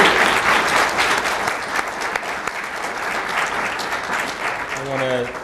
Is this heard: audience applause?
yes